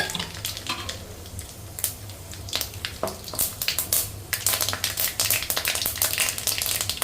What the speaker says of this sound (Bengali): তেলটা গরম হয়ে গেছে এখন আমি ফোড়নে দিয়ে দেবো শুকনো লঙ্কা দিয়ে দেব গোটা সর্ষে